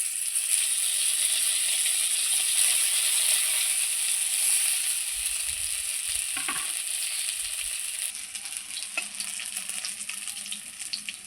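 Pointed gourd (potol) slices sizzle in hot oil in a pan, a steady close crackle that runs throughout, with a brief stir or scrape partway through.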